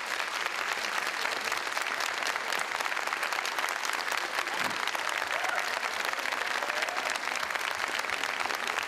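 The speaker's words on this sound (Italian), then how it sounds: "Vedi che applauso, guarda," Sustained audience applause for a performer announced at a singing festival show, a dense wash of many hands clapping continuously at even strength for the full length, with faint crowd voices mixed in.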